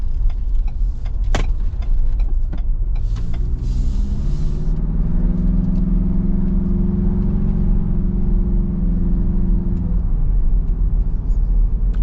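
Ford Bronco Sasquatch four-cylinder engine heard from inside while driving, a loud low cabin drone and road rumble with a tonal engine hum rising and holding in the middle, plus a few clicks near the start.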